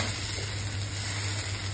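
A spice masala being fried down (kashano) in a pan gives a steady, close sizzle with a soft low bubbling hiss and no talking.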